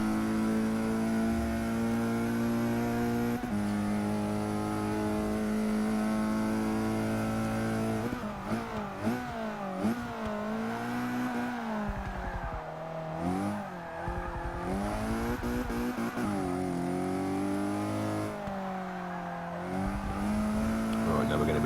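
A race car engine in the Forza 6 video game holds a steady high drone, then climbs and drops repeatedly as it shifts up through the gears down a straight, loud and close throughout.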